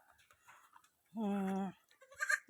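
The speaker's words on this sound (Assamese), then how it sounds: "মোৰ হাতত ছাগলী পোৱালি এটা আছে" A goat kid held in someone's arms lets out one clear, close bleat lasting about half a second, with quiet talking before and after.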